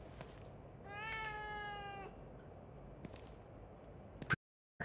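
A cat meows in the video game The Evil Within 2, a single drawn-out, rising-and-falling meow heard clearly over a quiet ambient game background, followed by a few faint clicks.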